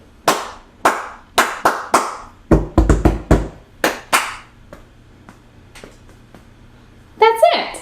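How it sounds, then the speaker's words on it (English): Hands clap out a rhythm in a room, a run of sharp near claps with a dense burst in the middle and irregular gaps, ending with a short high squeal. "Let's try it again. Start with clapping."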